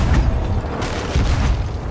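A deep booming blast rumbles loudly for a moment, followed by a second heavy thump, a ship's cannon firing amid game noise in Sea of Thieves.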